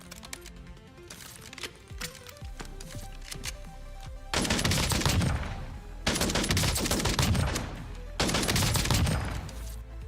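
Submachine gun fire from Black Ops 7 arrives in three loud sustained bursts of rapid automatic shots, preceded by softer scattered clicks and quieter shots, with no talking.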